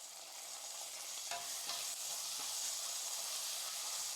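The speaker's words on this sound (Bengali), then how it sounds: "এবার সব উপকরণগুলো ভালো করে মিশিয়ে নিচ্ছি।" Ginger, garlic and green chilli paste stirred in a pan, a dense frying hiss with a brief scraping swipe of the spoon, close and steady throughout.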